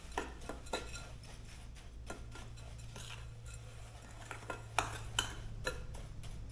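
Muffin batter being mixed in a bowl, a run of irregular light clicks and scrapes of a utensil against the bowl over a steady low hum, with no talking.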